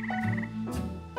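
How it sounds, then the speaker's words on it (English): Crickets and bullfrogs recorded in a backyard at night: a steady pulsing insect trill runs under deep, resonant frog croaks, with a louder croak near the end, all moderately close and with no talk. "Crickets and bullfrogs. Those are real, by the way."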